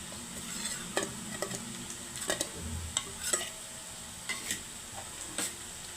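Mushrooms frying in a pan as ginger garlic paste goes in, with a soft sizzle broken by a string of sharp utensil scrapes and taps.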